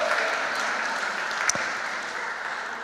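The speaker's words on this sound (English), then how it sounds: "Let's give Leo a round of applause." An audience in a church setting claps steadily, a dense, even wash of applause throughout with no talking over it.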